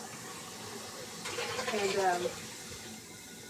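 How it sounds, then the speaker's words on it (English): A toilet flushes with a short rush of running water, rising and fading within about a second, while a person speaks faintly over it. "hold on, I'm gonna flush just in case."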